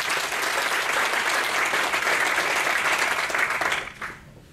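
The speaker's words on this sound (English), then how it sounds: "Ladies and gentlemen, give her applause." An audience applauds for a speaker being welcomed on stage at an ELM 20th event; dense, steady clapping fills the room for nearly four seconds, then fades quickly with a few scattered claps.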